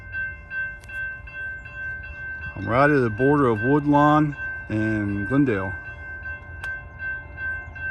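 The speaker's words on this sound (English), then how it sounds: "we finally got a train coming" A southbound CSX freight train approaches a rail crossing near Sharonville, Ohio, its horn sounding in two long, loud chord blasts over a steady rumble while someone talks over the start.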